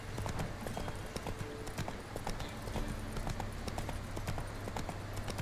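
Horse hooves clip-clop in a fast, steady rhythm in the video game Witcher 3: Wild Hunt, close and continuous, over a low background rumble.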